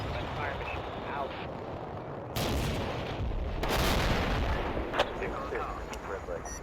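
Modern artillery fire in the wargame Combat Mission Black Sea lands as several heavy booms and crashing impacts, with a sharp crack near the end, all over a constant rumbling background.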